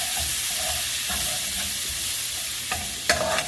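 Garlic cooks in a hot home-kitchen pan with a steady broadband sizzle and hiss, while a utensil scrapes and stirs; a few sharper clinks come near the end, with no one talking.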